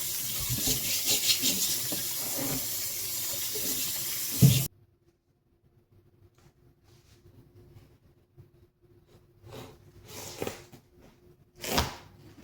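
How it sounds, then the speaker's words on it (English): A watermelon is rinsed under a running kitchen tap, with steady close water noise for several seconds that stops abruptly, followed by scattered handling knocks and brief splashes. "Make sure this was nice and clean. Rinsing all the debris off."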